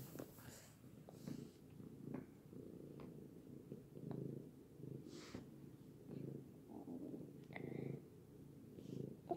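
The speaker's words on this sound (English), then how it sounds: "comment down below if you can hear her purring right now" Cat purring close up, a soft low rhythmic rumble in repeated breaths, quiet with occasional small rustles.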